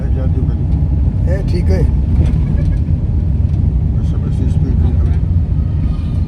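A tractor engine in third gear runs steadily and loudly throughout, a dense low rumble under a voice speaking briefly.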